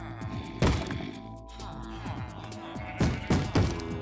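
Repeated heavy thuds and bangs of zombies in PS3 Minecraft, several loud impacts spaced irregularly over a busy layered background of music and effects.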